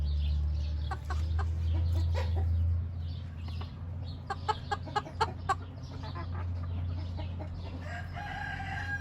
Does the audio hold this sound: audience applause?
no